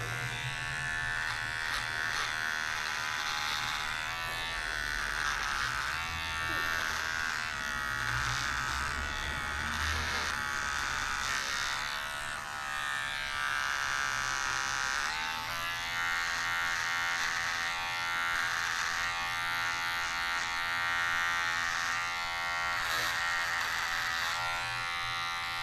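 Electric hair clipper cutting a fade in a barbershop, a steady continuous buzz running throughout at close range with no talk over it.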